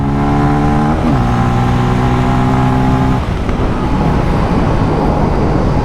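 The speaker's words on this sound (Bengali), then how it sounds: "চলুন তাহলে এটার অ্যাক্সিলারেশন টেস্টটাও করে নিই" A 2024 Bajaj Pulsar F250 motorcycle accelerates from 0 to 100, its engine revving hard through rising gears with a shift around the one-second mark, then roaring on at high speed with steady road and wind noise.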